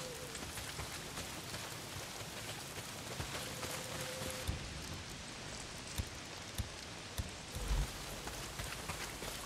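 Steady, dense rain pours down without pause in the post-apocalyptic PS5 action game Days Gone, a constant hiss with a few soft thuds and knocks, and no voices.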